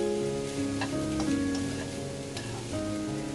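Stir-fry seasoning sizzles steadily in a pan while a spatula stirs it, with soft scraping clicks over a constant frying hiss.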